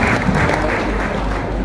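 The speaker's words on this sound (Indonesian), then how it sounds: "Beri tepuk tangan untuk mereka" Supporters at an Indonesian political gathering clap together in a dense, steady wash of applause, close and fairly loud, with no talking over it.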